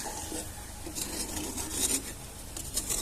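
Grated coconut and sugar stirred in a pan, making a continuous gritty scraping and rasping close by, steady throughout with small swells and no voices.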